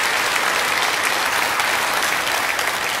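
A church congregation at a Baptist gathering claps together in sustained, dense applause, loud and even throughout with no pauses.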